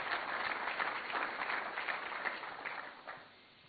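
Audience applause at a Hindi-language government sports event, steady dense clapping from a crowd lasting several seconds before tapering off, moderately distant with no talk over it.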